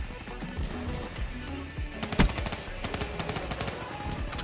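Rapid gunfire in the video game Call of Duty Black Ops 3, a dense run of sharp shots with one louder crack midway, steady and close in the game mix.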